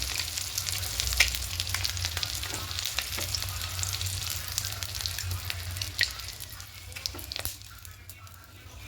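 Eggs frying in hot oil for an egg curry with coriander leaves, giving a steady crackling sizzle with scattered sharp pops throughout, close and alone with no talk.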